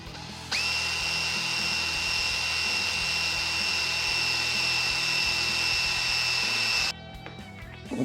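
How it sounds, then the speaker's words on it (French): Drill boring a hole in a workpiece while making control knobs for a RanchoCaster guitar, a steady high whine running continuously for several seconds before cutting off near the end. "On perce."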